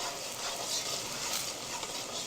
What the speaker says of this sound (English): frying until it can't fry no more.